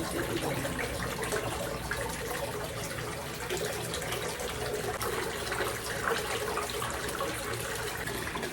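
Tap water pours steadily into a tub during a Manila hotel staycation, a constant, soft hissing rush of filling water with no pauses and no talk.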